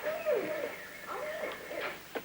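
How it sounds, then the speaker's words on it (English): Barred owl hooting in a series of descending, wavering calls, fairly close and clear, with no talk over them. "barred owl is a sound that's commonly heard in one of the most mysterious and enchanting regions of the world"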